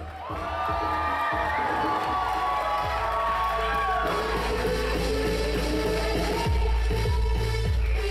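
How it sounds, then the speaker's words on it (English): A wedding reception crowd cheers and whoops loudly with shouts and applause, sustained and enthusiastic throughout. "How about once again, ladies and gentlemen, nice round of applause out here for Aparna and Sriyam."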